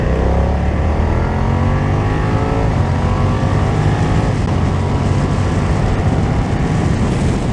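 A BMW F900R motorcycle in A2 restricted form revs hard, its engine note climbing through rising harmonics in steady loud sweeps, continuous and close throughout with no voices.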